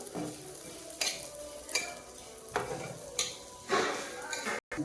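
Semai vermicelli frying and being stirred in a pan on a home stove, a soft sizzle under repeated scraping stirs and light clinks of a utensil against the pan, fairly quiet and close.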